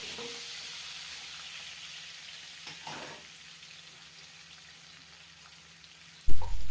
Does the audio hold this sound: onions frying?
yes